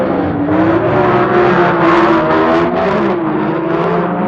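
Two 1975 drag racing cars, a Ford Pinto and a heavy V8, launch together with a loud sustained engine roar whose pitch climbs as they accelerate away, dense and continuous throughout.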